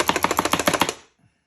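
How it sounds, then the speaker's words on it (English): A kitchen gadget chops garlic with a fast, regular run of about a dozen crisp, close knocks, each sharp and evenly spaced, ending abruptly before a brief faint rustle. "I'm using the kitchen gadget to chop my garlic"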